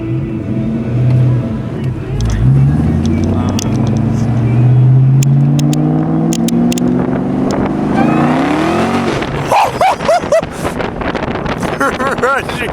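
A 2003 Ford Mustang Cobra pulls hard, its engine note climbing steadily under acceleration with a rising whine, then surging louder and rougher near the end; wind buffets the microphone and people talk over the engine.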